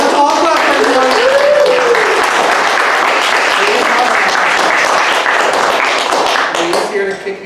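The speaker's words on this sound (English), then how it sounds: "Yeah, let's all clap for everyone." A small studio audience of only a few people claps steadily and loudly at a comedy talk show, with voices talking over the applause before it tapers off at the end.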